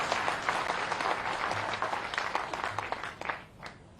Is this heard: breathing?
no